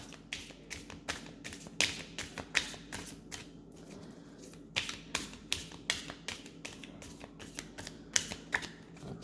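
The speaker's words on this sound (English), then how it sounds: "I'm going to clear the cards." Tarot cards are shuffled in a quick run of sharp riffling taps and flicks, about two dozen bursts in an uneven rhythm, close and fairly quiet over a low steady hum.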